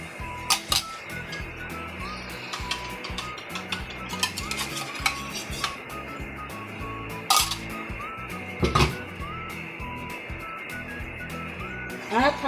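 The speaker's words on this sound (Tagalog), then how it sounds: "At hahaluin po natin syempre para yung ating itlog ay mahalo sa ating ampalaya." Beaten egg stirred into sautéed bitter gourd (ampalaya) with beef in a pan, spatula scraping and clinking against the metal in a steady run of strokes, close and fairly quiet, with a few sharper knocks.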